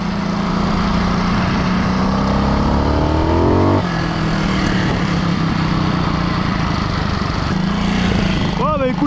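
A Beta 300cc single-cylinder four-stroke motorcycle engine, freshly rebuilt, runs loud and close with a steady throbbing idle, a brief rise in revs partway through, then settles back; no talk over it.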